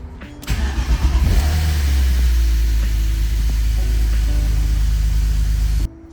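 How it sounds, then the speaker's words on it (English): A BMW E46 drift car's engine cranks and fires, then revs and settles into a loud, deep, steady rumble heard up close, cutting off abruptly at the end. "turning the key off for 15 seconds, and then we're gonna restart the car"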